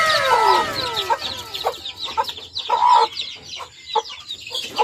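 Chickens cluck and call repeatedly near newly hatched chicks, with rising chirps and cackles close by, a faint rooster-like crow mixed in among the farm fowl.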